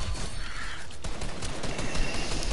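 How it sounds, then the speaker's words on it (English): Video game gunfire from a Mandalorian gun comes as a rapid, dense volley of sharp shots that runs straight through the short stretch, loud and close. "with the Mandalorian gun, headshot, one-shots him"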